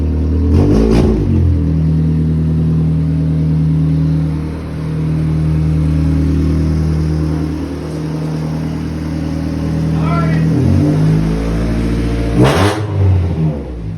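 A Honda Civic engine revs hard and loudly close by, holding a sustained droning roar that dips briefly and climbs again, with a sharp burst of noise near the end.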